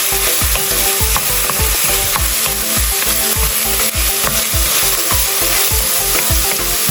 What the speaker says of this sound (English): So we let them cook for 2 more minutes before we add the meat and then the other ingredients.